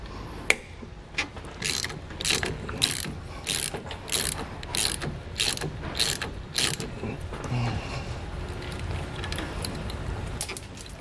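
Quick clicking ratchet strokes from a wrench loosening the sway bar end link nut on a 2008 Freightliner, about a dozen crisp, close ratcheting bursts in a steady rhythm over a faint shop background, with no talking.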